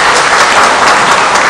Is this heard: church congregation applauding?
yes